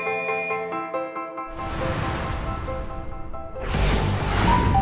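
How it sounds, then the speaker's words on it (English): A DAIHAN general-type laboratory oven's timer alarm beeps in a steady repeated electronic tone as the set time ends, followed by broadband whooshing noise, with no talking. "When set time is over, as you can see, the alarm sounds and the heating process is stopped."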